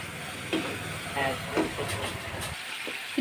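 Prawn curry with masala powder and curry leaves simmering in a pan, giving a steady steamy hiss and soft bubbling throughout, fairly close, with a few brief louder pops and occasional faint voice sounds.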